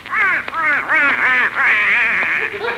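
A performer's voice imitating a duck in an old-time radio comedy, a string of nasal, rapid quacking squawks delivered close and loud without pause.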